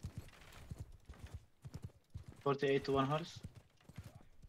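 Horse hooves clip-clop in a strategy video game battle, a quick rhythmic clatter mixed with a brief whinny, with players talking over it.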